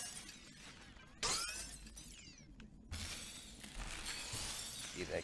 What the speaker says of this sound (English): Smash the mirrors.